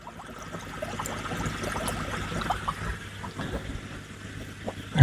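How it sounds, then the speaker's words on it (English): A Hygger HG981 10W air pump pushes bubbles through aquarium water, producing a soft, continuous bubbling and trickling that stays fairly quiet and close, with no voices present. "There's the bubbles."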